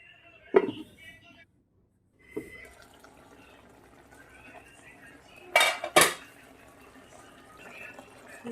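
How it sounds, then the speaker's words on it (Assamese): A lid going onto a cooking pot: a couple of sharp metallic clanks close by, with an earlier clink and quieter kitchen rustling in between. "মই ঢাক মাৰি দিছোঁ।"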